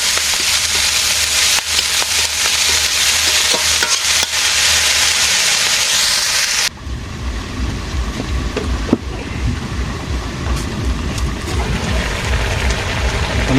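Small fish and hinchi greens frying in a pan, a steady loud sizzle that runs throughout, shifting partway to a lower, bubbling crackle with occasional stirring.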